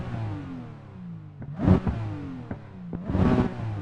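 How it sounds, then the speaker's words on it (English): A Porsche engine revs in two sharp rising bursts toward redline, with rotating harmonics sweeping up and falling back between them, close and loud with no talk. "Sounds, again, like what you're expecting, like that distinct Porsche engine sound."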